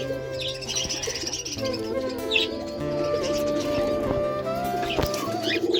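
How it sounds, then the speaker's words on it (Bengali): Several cockatiels chirp and whistle in an aviary with nesting boxes, with overlapping close calls over a busy bed of other bird sounds. "খুবই ভালো ককাটেল পাখিগুলো, এখানে আসলেই ডাকাডাকি করে।"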